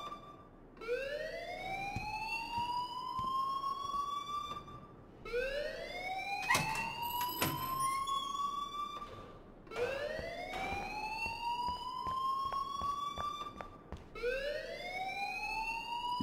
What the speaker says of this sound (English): please turn off that alarm